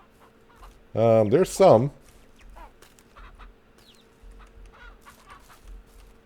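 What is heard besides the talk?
chickens clucking in video game Ranch Simulator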